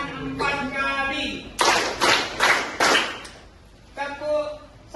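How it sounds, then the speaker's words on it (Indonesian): Four loud, evenly spaced claps ring out from an audience at a training session, each a sharp broadband smack, with a person speaking just before and after. "Tepuk tangan 4 kali."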